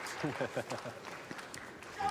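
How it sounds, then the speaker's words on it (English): A small audience at a World Series of Poker table claps briefly after a big pot, giving a short burst of scattered, faint applause that fades quickly beneath close commentary voices. "That's about the right amount of applause for that pot"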